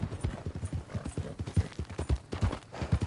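A horse's hooves clip-clop in a steady walking rhythm in Red Dead Redemption 2, each footfall close and distinct over a soft background, with no talk.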